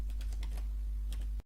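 Someone types on a computer keyboard, tapping several quick keystrokes in a burst, then pausing before a couple more, close up over a steady low hum.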